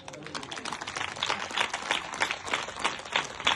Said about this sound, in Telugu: మీకు అర్థమైతే చప్పట్లు కొడతారు